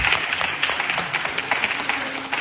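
Church congregation applauding during a worship service, a dense, continuous wash of clapping from many hands filling the room, loud and steady throughout.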